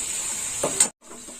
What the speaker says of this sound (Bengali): এই মশলাটাও একটু ভাজা হবে।